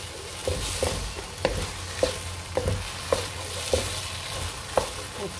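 A spoon stirs a kesari mixture with added cardamom in a pan. It gives a steady soft scraping and sizzling bed with regular clinks of utensil against metal about every half second, close and moderately quiet, with no talk.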